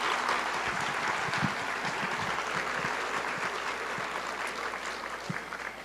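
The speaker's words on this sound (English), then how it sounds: "So let's just give Scarlett one more round of applause." Conference audience at a social emotional learning event claps in a broad, sustained wash for several seconds, with scattered sharper claps near the front and the applause slowly thinning toward the end, no voices heard.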